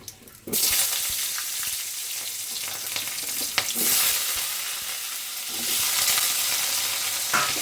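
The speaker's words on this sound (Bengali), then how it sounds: "এবার আমি এই আলুগুলো এখানে দিয়ে দিচ্ছি" Potatoes go into a pan of hot oil with fried cumin seeds and dried red chillies, breaking into a loud, continuous sizzle with a few scrapes and stirs, with no voices.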